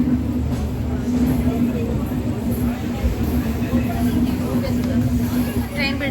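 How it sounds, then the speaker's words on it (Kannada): Rumbling train noise with a steady low hum and hiss at a rain-damp station, mixed with background crowd babble throughout, as the train pulls out on a journey to Shirdi. "ಟ್ರೈನ್ ಬಿಡ್ತು"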